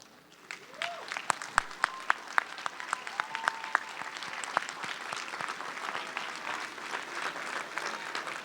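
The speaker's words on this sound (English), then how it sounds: "give them a round of applause" Graduating students at a 2017 Park West High School commencement applauding their teachers and staff, sustained crowd clapping with sharp individual claps standing out near the microphone and voices calling out through the applause.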